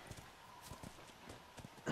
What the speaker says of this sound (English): Why don't you watch the horse?